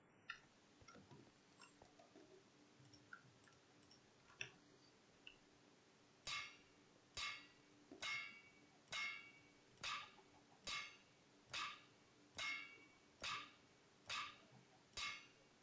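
An iron hammer repeatedly strikes and breaks flux blocks in modded Minecraft, about ten sharp, evenly spaced clinking hits in a steady rhythm after a few quiet, scattered sounds, with no talking.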